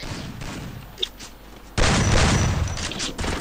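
Grenade blast and gunfire in the mobile battle-royale game Free Fire MAX, a sudden loud burst of sustained explosive crackle and shots cutting in after a quieter stretch, continuing densely to the end.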